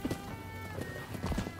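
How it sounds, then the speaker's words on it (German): Hooves clip-clop in a quick rhythm, a horse moving at speed in the video game Rise of the Ronin on PS5, with game background music and tones running steadily underneath. "Ich nehme das Pferd, weil es hier steht."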